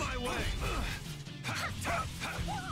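A dog in the video game Tales of Vesperia gives a run of short yips and barks, mixed with game voices and talk.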